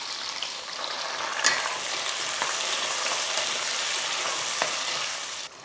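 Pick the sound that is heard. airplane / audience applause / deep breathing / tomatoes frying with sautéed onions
tomatoes frying with sautéed onions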